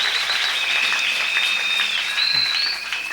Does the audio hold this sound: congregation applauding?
yes